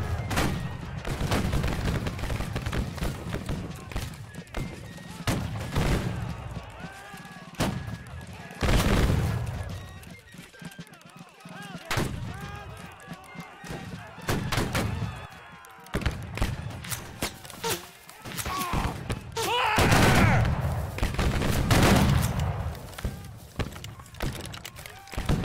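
Musket volleys in Battle Cry of Freedom, a Civil War-era battle game, crack out in several loud, broad bursts spread across the clip over constant battlefield rumble and distant shots.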